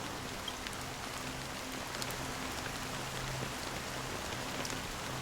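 Steady rain falls in a video game, a dense, even hiss of drops with faint low hum beneath, continuous and unbroken throughout with no voices.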